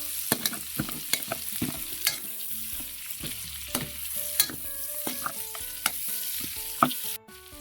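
Garlic and onion sizzle steadily in a frying pan while a metal utensil stirs, striking the pan in sharp, ringing clanks every second or so; close and fairly loud, no voices.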